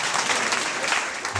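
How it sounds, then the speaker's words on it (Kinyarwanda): Church congregation applauding during a Sunday service, a steady wash of clapping from many hands that holds evenly through the brief moment, with no voices. "Ukomera amashyi umwami Yesu."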